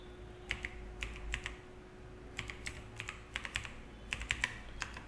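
Typing on a computer keyboard during a commerce accounts lesson, light clicking keystrokes in short irregular bursts, quiet and close over a faint steady hum.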